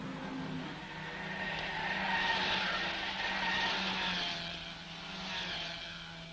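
Racing cars in the 1964 Tour de France automobile, including a Jaguar and Ford Mustangs, roar past at moderate distance, engine noise rising and falling in sweeping passes with no talk.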